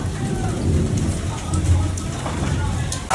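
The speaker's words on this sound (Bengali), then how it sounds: "একটু বৃষ্টি থামেনি" Steady rain pours down outdoors in a continuous broadband hiss with scattered patter, loud and unbroken throughout, with no voices.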